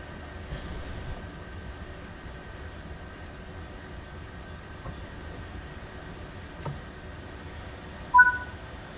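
A BR425 EMU electric train in Train Sim World 3 hums quietly and steadily with a faint tonal whine, broken by a few soft clicks and one short, louder chime near the end.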